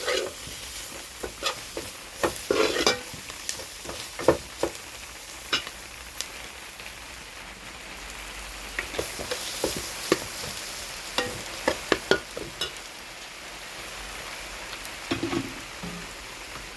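Garam masala and other spice powders sautéing in a pan for a beef liver pepper fry: a steady soft sizzle broken by repeated scraping stir strokes, close and alone.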